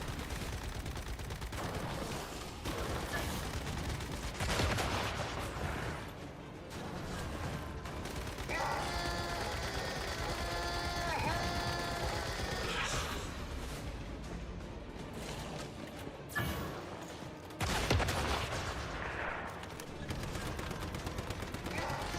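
Gunfire in the video game Once Human, a dense, continuous stretch of shots and game sound effects mixed with music-like tones, steady and loud throughout with no clear gaps.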